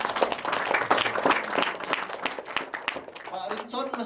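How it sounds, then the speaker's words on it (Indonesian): A seminar audience discussing Indonesia's disability law claps in a brisk burst of applause, with voices talking over and after the clapping as it trails off. "Tepuk tangan dulu."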